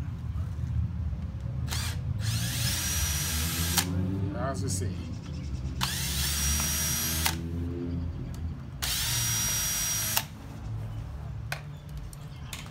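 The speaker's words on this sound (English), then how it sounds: "So what I do, I completely just drill them" Bursts of a power drill whirring at high speed drilling out screws, three long runs and a short one, with someone talking over a steady low hum.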